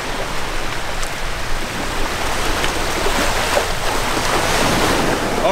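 Ocean surf washing steadily along a shore, a loud, broad rushing roar mixed with gusty wind buffeting the microphone.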